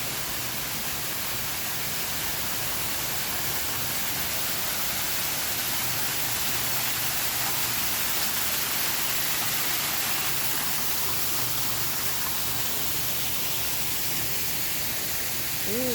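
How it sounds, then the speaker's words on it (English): A waterfall along a walking trail roars as a steady, broadband rush of falling water, constant and fairly close, with no voices heard over the continuous wash. "Another waterfall we're coming up on."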